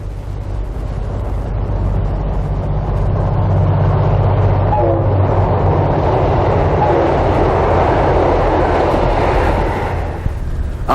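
Passenger train N459, the Cobram to Melbourne service, runs straight through without stopping. It makes a loud, steady rumble of engine and wheels that holds for about ten seconds before easing off at the end, with no talk.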